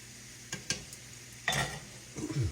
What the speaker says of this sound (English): We'll let those fry just a little bit.